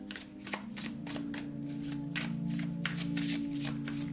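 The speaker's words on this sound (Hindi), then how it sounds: "शफल कर लेते हैं कार्ड्स को" Tarot cards being shuffled by hand, a steady run of crisp riffling bursts close up, with a soft hum underneath and no talking.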